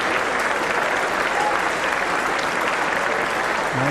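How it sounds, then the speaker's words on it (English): A cricket crowd at Hobart during a one-day international between Australia and South Africa applauds and cheers in a loud, continuous ovation, with a faint commentator's voice underneath. "The crowd has given Perore a very good ovation for those 2 runs"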